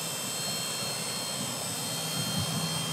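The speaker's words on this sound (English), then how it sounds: "one of the hardest maneuvers is keeping the helicopter exactly where you want it" A hovering RC helicopter gives a steady, continuous whirring engine and rotor drone that holds at an even loudness throughout, with no talking.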